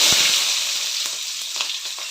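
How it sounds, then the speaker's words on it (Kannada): Onions frying with cumin in a pan give a continuous bright sizzle close by, with a few soft pops and crackles and no talking. "ಇವಾಗ ನಾನು ಈರುಳ್ಳಿ ಹಾಕಿದ್ದೀನಿ"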